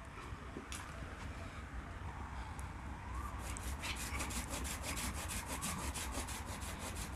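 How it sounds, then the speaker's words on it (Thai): A hand saw rasps steadily through a bonsai branch in quick, regular back-and-forth strokes, close and fairly loud, with no talking. "จะเลื่อยออกก่อน ตัดทิ้งเลยตัดให้ได้ขนาดนะฮะ"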